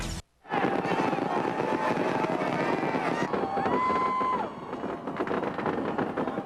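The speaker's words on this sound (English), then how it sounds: "The Strip ushered in the new year with one of the biggest fireworks displays in the world." A New Year fireworks display on the Las Vegas Strip, with a steady wash of crackling bursts and booms mixed with distant crowd noise and a faint tonal whistle, heard loud and continuous after a brief cut.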